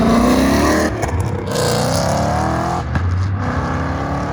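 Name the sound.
Alfa Romeo car accelerating hard at a car meet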